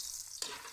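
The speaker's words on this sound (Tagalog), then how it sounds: "Maglalagay na tayong bawang, garlic, ay sibuyas." Garlic and onion dropped into a hot frying pan, a sudden loud hiss of sizzling oil that jumps up and keeps going, close by with no talking.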